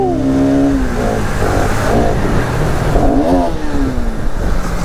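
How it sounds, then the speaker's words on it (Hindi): RS motorcycle engine revving close by: several rising and falling revs with a gritty, buzzing exhaust note, loud and without talk. "आवाज़ सुनो बस आरएस की यार"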